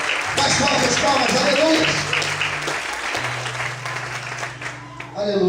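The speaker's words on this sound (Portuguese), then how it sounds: "Mais forte as palmas" A church congregation claps strongly and steadily during worship, the applause holding throughout under sustained low musical tones and some voices.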